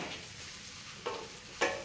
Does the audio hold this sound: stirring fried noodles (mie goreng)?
yes